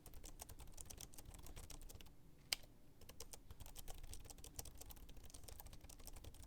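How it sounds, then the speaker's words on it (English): Steady, rapid key clicks from a Logitech K780 keyboard captured by a microphone very close to the keys, continuous typing with one sharper louder tap midway. "one where the microphone is very close to the keyboard"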